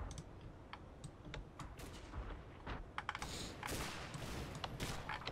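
Armored car gunfire from an M8 Greyhound in a tank battle game, aimed at a Panther tank: scattered sharp cracks and bursts of shots over a constant noisy battle bed, with a denser rush of fire near the end.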